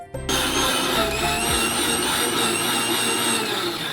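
A mixer grinder whirs loudly and steadily as it grinds coconut curry paste in its jar, a continuous motor drone with a rattling edge that starts abruptly and runs on alone at full level.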